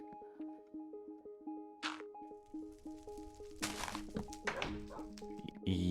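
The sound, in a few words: dog barking in the video game Minecraft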